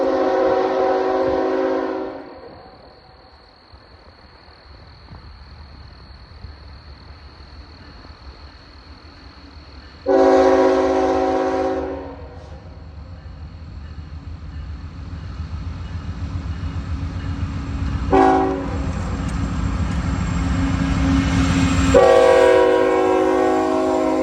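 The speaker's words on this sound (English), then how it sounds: "this Herzog ballast train is a special work order for the Norfolk Southern" A Norfolk Southern Herzog ballast work train passes in Greenville, South Carolina, sounding four loud horn blasts of varying length over a constant rumble of wheels and rail cars that grows heavier as it nears.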